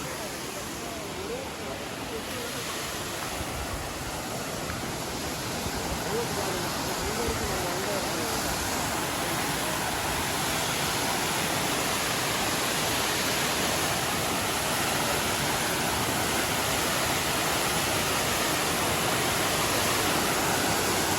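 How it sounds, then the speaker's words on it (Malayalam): Waterfall near Kodaikanal, water dropping from a good height, heard from close to its base as a steady, loud, broadband roar that holds without a break throughout. "ഇതാണ് കാണാൻ വെള്ളച്ചാട্ടം നമ്മൾ വെള്ളച്ചാട്ടത്തിൻ്റെ അടിയിലേക്ക് എത്തിക്കാണ്"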